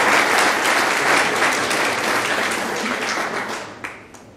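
Audience clapping at an indoor Monday information address in Salzburg, a dense burst of many hands that is fairly loud at first, then gradually thins and fades toward the end.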